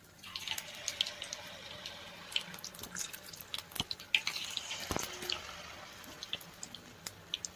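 Batter-coated banana flower fritters made with rava fry in hot oil in a kadai. The sound is faint: an irregular crackle of small sizzling pops continues throughout, with no talk.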